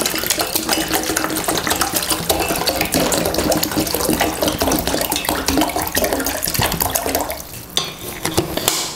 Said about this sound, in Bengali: এর মধ্যে আমরা 1 লিটার জল পুরোপুরি ঢেলে দেবো